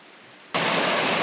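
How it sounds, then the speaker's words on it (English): Creek water rushing at a hiking crossing in Fishlake National Forest, a soft hiss that jumps to a loud, steady broadband roar partway through. "Creek crossing number 4."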